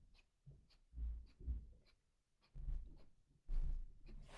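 A pen drawing hatching lines on paper, soft scratchy strokes repeated in short, evenly spaced bursts, faint and close.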